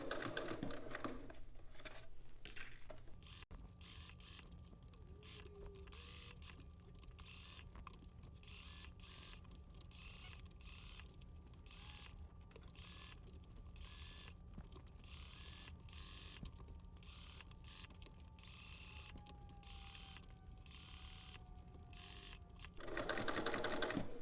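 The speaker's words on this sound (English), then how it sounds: "we're going to stitch in the ditch along this line" A home sewing machine stitches in the ditch along a placket line on a dress, a steady fast mechanical whir with rapid needle ticking running for about twenty seconds between louder bursts of handling noise.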